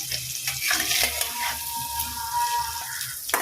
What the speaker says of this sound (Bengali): এবার আলুগুলোকে একটু আমি ভেজে নেব।